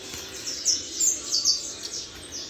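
Saffron finches (canário-da-terra) in a cage sing back and forth, bright high chirps and trills repeating over a steady background hiss, close to the listener.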